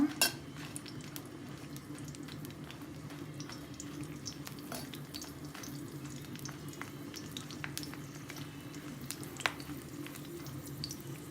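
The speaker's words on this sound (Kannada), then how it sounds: "ಮೆಣಸಿನ್ಕಾಯಿ ಸ್ವಲ್ಪ ಫ್ರೈ ಮಾಡೋಣ." Green chilies fry in a pan for a cashew chicken fry: a steady, close sizzle with scattered sharp crackles and pops running throughout, no voices.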